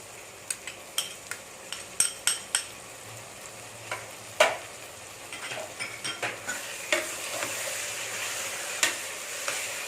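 Ginger garlic paste, onion and tomato sautéing in a pan for Dindigul Thalappakatti style mutton biryani, with a steady low sizzle and frequent sharp clinks and scrapes of a spoon stirring, close and alone.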